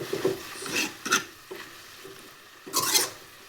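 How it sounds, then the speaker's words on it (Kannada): Fenugreek greens and vegetables being fried and stirred in a pan, with intermittent scraping strokes of a spatula over a soft low sizzle, close by and without speech. "ಇವಾಗ ಫ್ರೈ ಮಾಡಿರೋ ತರಕಾರಿ ಮತ್ತು ಸೊಪ್ಪಿನ ಹಸಿ ವಾಸನೆ ಹೋಗುವವರೆಗೂ ಇದನ್ನು ಚೆನ್ನಾಗಿ ಇದರಲ್ಲಿ ಫ್ರೈ ಮಾಡಿಕೊಂಡ್ರೆ"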